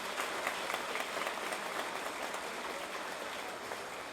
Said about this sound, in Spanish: recibimos con un fuerte aplauso en el escenario al señor Edwin de los Santos